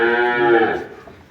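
Dairy cow lets out a single loud, close moo, a rich harmonic bellow that holds for most of a second and then fades away.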